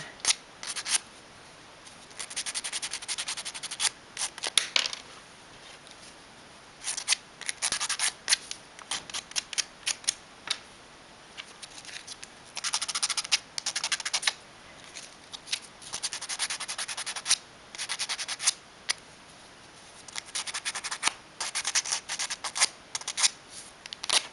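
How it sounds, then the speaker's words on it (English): Plastic tabs on assembly parts are sanded off and their edges tapered by hand, giving repeated bursts of close, gritty scraping strokes in irregular runs separated by short pauses. "we can sand these tabs off and sand a bit of a taper on the edge of those"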